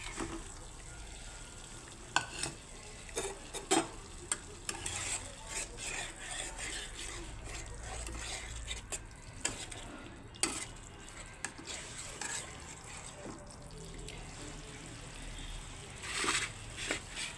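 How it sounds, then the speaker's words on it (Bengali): Fried eggs added to a curry of sautéed onions whose oil has separated, a soft continuous sizzle with repeated sharp spatula scrapes and clinks against the pan, fairly quiet. "এখন আমি ডিমগুলো ভেজে রাখা ডিমগুলো দিয়ে দিচ্ছি"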